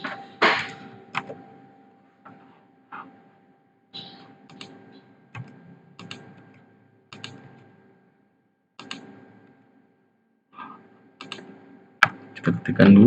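Someone types on a computer keyboard in short bursts of quick clicking keystrokes separated by quiet pauses, close and distinct, ending with a sharper louder clack.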